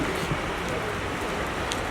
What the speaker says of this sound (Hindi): अरे इतनी बारिश हो रही है